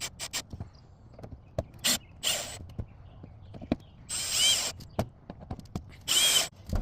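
A power drill tightening fasteners on a ShurFlo water pressure valve, short close whirring bursts separated by pauses, mixed with clicks and handling knocks and no talk.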